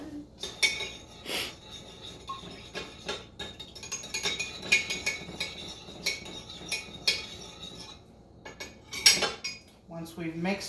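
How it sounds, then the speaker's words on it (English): A utensil clinks and scrapes against a cup while dish soap is mixed, irregular tapping and stirring clatter that is close and fairly quiet. "And we're going to mix."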